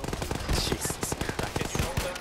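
Rapid bursts of PKT machine gun fire in a military video game, a dense rattling stream of shots with mixed gunfire, loud and continuous over the short span.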